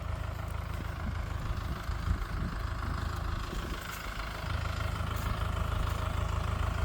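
A tractor engine idles steadily in a farm field during potato planting, a constant low rumble that holds even throughout with no speech over it.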